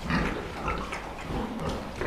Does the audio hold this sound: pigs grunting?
yes